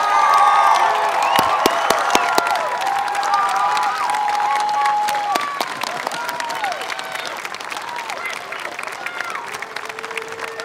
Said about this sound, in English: Let's keep that applause going a little bit longer, right?